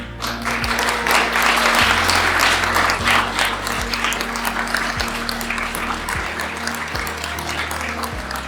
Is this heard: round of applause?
yes